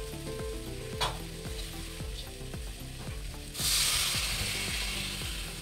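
Mushroom masala cooks in a kadhai with a steady sizzle and regular ticking stir strokes, then cold water is poured in and sets off a sudden loud hissing surge that carries on to the end.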